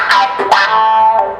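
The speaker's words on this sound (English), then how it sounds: "If I distort this frequency, and it really brings out what they call the cue, the resonance of the wah" An electric guitar played through a wah pedal placed before an overdrive gives short vocal-like sweeping notes, a couple of quick plucked accents followed by a sustained distorted tone.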